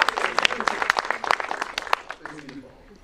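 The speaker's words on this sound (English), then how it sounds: "Can you give him a round of applause?" After a film screening Q&A, the crowd claps for the composer, sharp distinct claps that thin out and fade toward the end as a voice starts speaking underneath.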